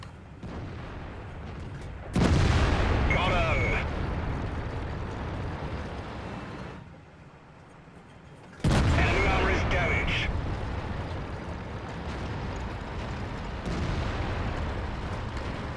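Tank cannon blasts from the FV4004 Conway in World of Tanks on the Stalingrad map, two heavy booming shots several seconds apart, each followed by a rumbling tail, over continuous engine drone and battle ambience.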